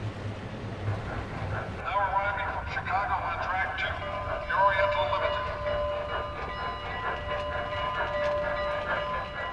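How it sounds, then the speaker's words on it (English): A model steam locomotive runs with a rhythmic mechanical chuffing and faint whistle-like tones, with a voice talking over it. "the locomotive returns to a normal chuff"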